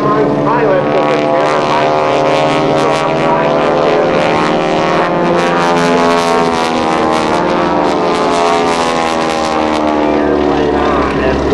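Stearman biplanes of an airshow aerobatic squadron roar past with a loud, steady radial-engine drone that swells and sustains close by, while an announcer talks over the noise.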